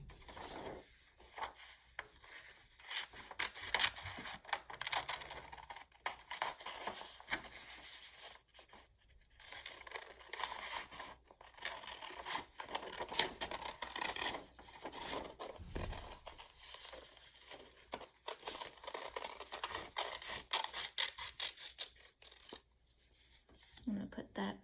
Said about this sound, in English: I'm gonna cut my leaves.